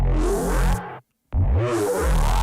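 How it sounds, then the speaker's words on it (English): A growling monster bass synth patch, the Archfiend preset in Phase Plant, sounds in two loud gritty bursts with warbling harmonics, separated by a short silent gap. "So this is a cool little like monster bass or whatever."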